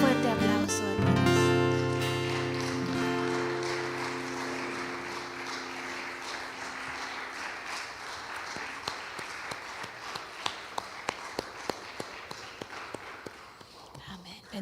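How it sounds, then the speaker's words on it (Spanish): A church congregation applauds at the close of a Spanish-language sermon, steady clapping that fades into a few sparse individual claps, with a voice speaking over the start. "Dale un fuerte aplauso"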